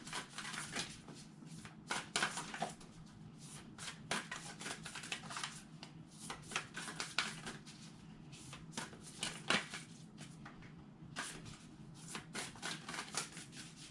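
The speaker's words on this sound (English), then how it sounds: "Let's see what cards I pull for a clarifying card." Tarot cards being shuffled by hand, with quiet, close, rhythmic riffling and flicking strokes that go on for around fourteen seconds without speech.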